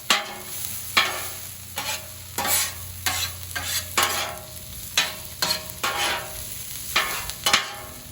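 Peppers, onions and mushrooms frying on a 36-inch Blackstone griddle, a constant close sizzle broken by a string of sharp spatula scrapes and taps at an uneven pace, with no voices.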